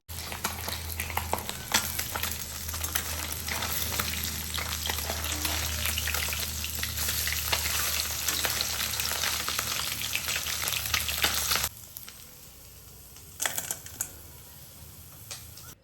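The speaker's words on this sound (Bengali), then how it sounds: "আস্তে আস্তে এবার মাছটা ভাজা যাক" Fish sizzles loudly in a hot pan, a dense crackling fry with scattered sharp pops that runs steadily for about twelve seconds, then drops abruptly to a much quieter simmer with a few brief bursts.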